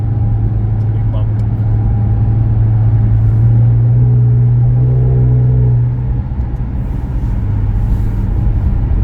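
Car interior at night on Quebec's Highway 40, with a steady engine and road rumble throughout; a bump thuds briefly under the drone as the tone shifts partway through, and no one speaks.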